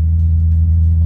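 A Maserati GranSport engine runs with a steady, loud, deep rumble, heard close up as a continuous low drone with no clear rise in revs and no talking.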